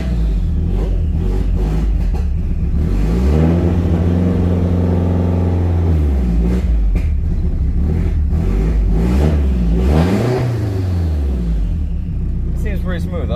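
A car engine cold-starts on E85 fuel and is revved, a loud, close, rumbling idle that climbs and falls in pitch through several throttle blips, running continuously throughout.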